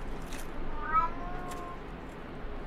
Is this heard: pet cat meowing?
yes